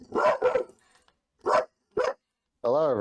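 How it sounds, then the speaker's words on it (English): A pet dog barks close to the microphone in four sharp, separated bursts, the first two in quick succession, then lets out a longer wavering whine at the end. "My dog barking"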